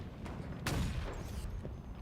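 Sniper rifle fire in Halo during a competitive HCS Dallas 2025 match: one sharp, loud shot bursts out over a steady bed of game noise, with fainter crackles before and after.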